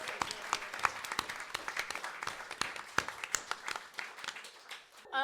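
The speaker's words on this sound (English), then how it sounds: "Give yourselves a round of applause." Audience at a live civic engagement show in the Robin Theatre claps, a moderate round of distinct, scattered hand claps that fades out before a voice cuts in at the end.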